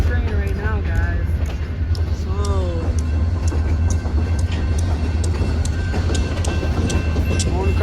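A short train rolls past on the Market Rail line, a steady broadband rumble with faint high squeals and clicks above it, loud and close throughout.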